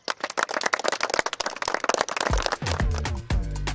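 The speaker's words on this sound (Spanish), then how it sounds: "Gracias muchachos, un aplauso" Applause for young athletes, a burst of many quick, close hand claps for about two seconds that gives way to a loud sustained musical tone swelling underneath.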